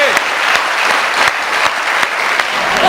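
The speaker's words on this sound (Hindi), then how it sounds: "तालियां जी" An audience claps continuously through a film-star interview, a dense, loud, close patter of many hands with some voices mixed in.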